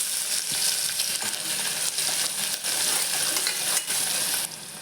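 Onions sauté in oil with cloves, a piece of cinnamon and asafoetida for a wheat khichdi, giving a loud, bright sizzle that stays even throughout, with occasional stirring scrapes and no speech.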